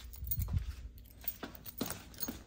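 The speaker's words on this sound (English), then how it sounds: "and there's the key" A set of keys jangles close by in a few quick, light metallic bursts, with softer clinks and handling noise in between and no voices.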